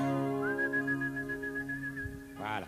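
Audience members at a live comedy show whistle a steady held note on request, one sustained tone joined briefly by a warbling whistle near the end, fairly close and clear over a quiet room.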